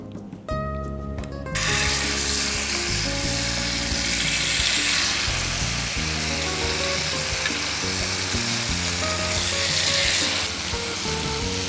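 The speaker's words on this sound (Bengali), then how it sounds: "এখন আমরা এটা তেলে দিয়ে দেব।" Marinated mutton ribs dropped into a little hot oil in a pan, a sudden loud sizzle that bursts in and holds as a strong, steady hiss with crackling, no talk.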